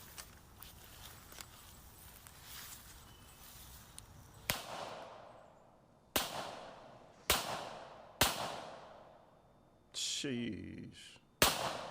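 Several sharp handgun shots ring out, about six loud cracks spaced roughly a second apart in the second half, each followed by a decaying echo, after quieter rustling; a voice speaks briefly.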